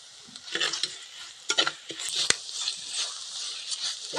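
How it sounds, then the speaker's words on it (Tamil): Crushed pepper, cumin and garlic going into a pan for puliyodharai, a soft sizzle broken by scattered scrapes and stirring clatter, close but fairly quiet. "மிளகு சீரகம் பூண்டு இடிச்சு வச்சதை போட்டுக்கலாம்"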